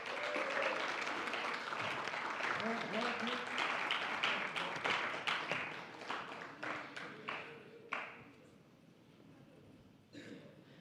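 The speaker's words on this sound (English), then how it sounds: "Let's give them a round of applause." Audience applause at a middle and high school awards ceremony, a long stretch of dense clapping that thins out and tapers into scattered claps near the end.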